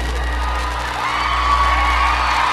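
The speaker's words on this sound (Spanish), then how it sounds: "Aplauso, please, como dice el corporal," A political rally crowd for a visiting official cheers and whoops loudly and continuously, a dense mass of shouting voices with steady roar and no clear pauses.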